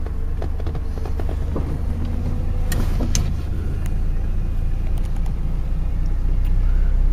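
A Toyota RV with a rare 5-speed manual transmission drives off, its steady engine and road rumble continuous and fairly loud, with faint rattles and clicks from the cabin throughout.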